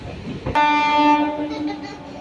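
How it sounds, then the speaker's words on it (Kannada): A MEMU passenger train running from Hosur via Yeshwanthpur to Tumakuru passes through R R Nagar station, its loud sustained horn sounding over the rumbling roar of the moving train. "ಇದು ಹೊಸೂರಿಂದ ಯಶವಂತಪುರ ಹೋಗಿ ತುಮಕೂರಿಗೆ ಹೋಗುವಂಥ ಮೆಮೋ ಟ್ರೈನು ಆರ್ ರಾಮಲ್ಲಿ ಕ್ರಾಸಿಂಗ್ ಆಗ್ತಾಯಿದೆ"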